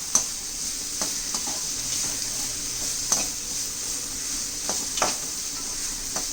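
Chopped capsicum sautéing in a pan for tomato rice: a steady sizzle runs throughout, with occasional clinks and scrapes of a utensil stirring against the pan.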